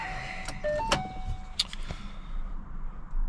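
A 1959 Ford F100 panel truck engine runs with its boost pipes disconnected, giving a steady rough rumble with thin whistling tones and a few sharp clicks over a short stretch.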